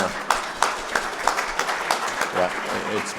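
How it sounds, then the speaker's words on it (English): Audience applause at a leadership panel event for Carbon RX, scattered claps building into a moderate round while a voice talks over it. "Let's give Carbon RX a big round of applause"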